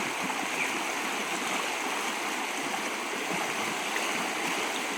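A forest creek rushes and babbles steadily and close by after rain, a continuous full wash of flowing water with no pauses and no voices.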